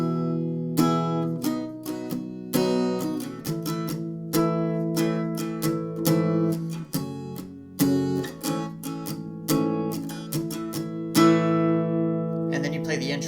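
Acoustic guitar plays the fourth part of a song, strummed chords in a steady rhythm with ringing notes, close and clear with no talking.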